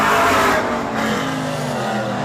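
A late model race car runs a time-trial lap at Hythe Motor Speedway, its engine roaring loud and close at first, then sliding down in pitch as it moves away along the track.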